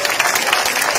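Dense, steady applause from a live audience at an Italian music award event in Tolentino, loud and continuous throughout with no pause.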